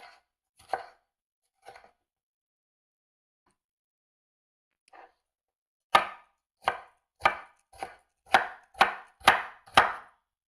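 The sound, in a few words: chopping peppers into small dice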